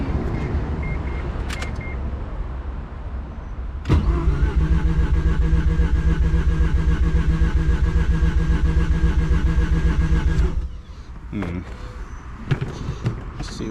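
A rebuilt Mazda FD3S RX-7 rotary engine, deflooded and with reduced fuel pressure, cranks, catches and idles roughly for several seconds with a loud rhythmic pulsing, then cuts out abruptly, leaving quieter clicks and rattles.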